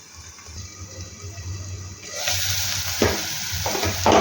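Peas and methi curry cooking in a covered pan, a steady sizzle and bubbling that grows louder halfway through, with occasional clinks, close and without talk.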